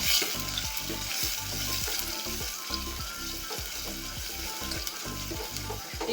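Chicken curry paste frying in a pan gives a loud, steady sizzle throughout, broken by repeated scraping strokes as it is stirred.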